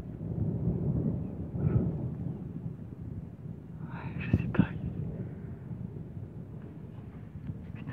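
Thunder rolls as a low, sustained rumble during a strong June thunderstorm at Villers-Bocage, with wind noise and someone talking quietly throughout, and a few sharper cracks rising briefly midway.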